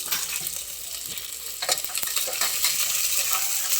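Curry leaves, dried red chillies and onion crackle and hiss in hot oil for fenugreek rice, a dense, continuous sizzle with scattered pops and light stirring scrapes throughout.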